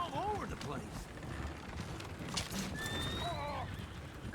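Horses neigh and whinny in Red Dead Redemption 2, a loud whinny at the start and another squealing neigh later, over hoof clatter and busy ambient game noise.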